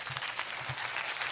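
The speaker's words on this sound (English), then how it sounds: "Applause." A studio audience applauds during a comedy-style alternative presidential debate show, a steady broadband wash of clapping throughout with low thumps underneath, moderately loud and continuous with no talk.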